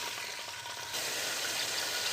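Mutton pieces hit hot oil in a karahi, a steady broadband sizzle that grows louder and denser about a second in and keeps crackling without pause to the end.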